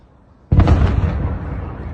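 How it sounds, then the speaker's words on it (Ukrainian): A drone-attack explosion in Belgorod, Russia: a single loud blast hits suddenly and then rolls off into a long, rumbling decay. No one speaks. "на опублікованих російськими ж пабліками відео чутно близько 20 вибухів у місті дислокації Тріумфу та його РЛС."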